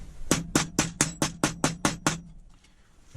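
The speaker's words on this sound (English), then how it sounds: "So I'll give that a hit with a hammer." A hammer strikes the bent cam of a mailbox lock, nine sharp metallic blows in a steady rhythm, close and loud, then a quiet tail with no talking.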